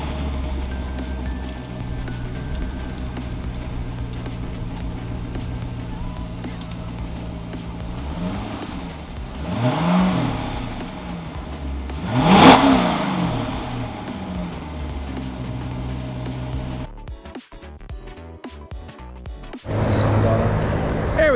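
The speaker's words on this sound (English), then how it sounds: "we're going to do first a startup video so you could hear what the stock exhaust sounds like" Stock-exhaust C6 Corvette V8 idling steadily, then revved in rising bursts with a sharp peak, dropping back before a brief cut and a final rumble; close and loud, no talking over it.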